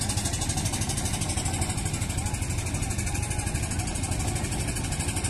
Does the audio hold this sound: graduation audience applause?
no